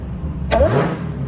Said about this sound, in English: Let's give this thing a little rev real quick.